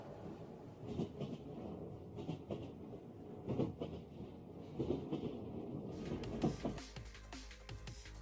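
Train sound effect of rolling wheels and rhythmic clickety-clack, loud and close, with regular heavy pulses for several seconds before the tone shifts to a brighter, squealing rail noise at the end.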